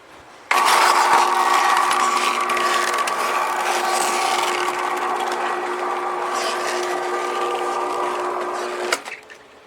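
A motorized roll-up aluminum hurricane storm shutter, just repaired, runs steadily for about eight seconds with a continuous mechanical whirring drone that starts abruptly and cuts off at the end.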